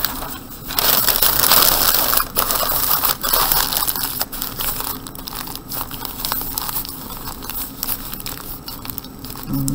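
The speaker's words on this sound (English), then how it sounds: "Here's my first piece of paper, and I'm going to crumple it into a ball." A sheet of paper is crumpled by hand into a tight ball for papier-mâché, making close, loud crinkling and crushing that keeps going in irregular bursts and gradually grows softer.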